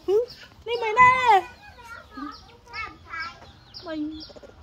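Chickens cluck and squawk nearby in a series of uneven calls, with a loud burst early on, mixed with what sounds like voices talking.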